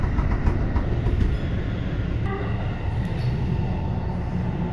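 A Sendai subway Namboku Line train runs underground, a loud steady rumble and roar from inside the car with faint clicks over it, continuous for several seconds and free of speech.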